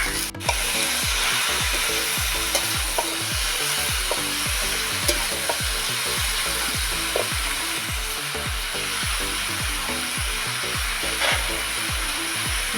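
Ash gourd frying over spices in a pan, a loud continuous sizzle broken by a rhythmic series of scraping strokes as a spatula stirs it, close up, with no talking.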